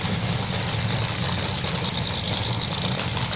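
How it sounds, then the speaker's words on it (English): A drag racing car engine idles loudly up close at a festival event, a steady rough rumble with crackling pops and bangs from unburnt fuel layered throughout. "There's an awful lot of fuel that's burning outside of the engine, hence the pops and the bangs that you wouldn't normally hear."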